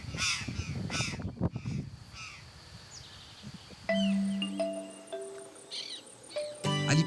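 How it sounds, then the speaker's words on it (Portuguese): A group of curl-crested jays calls in open cerrado grassland at Emas National Park, Brazil, giving loud, harsh cawing notes up close at the start, with buzzing insects and other birds continuing behind. "encontramos um grupo de gralhas do campo."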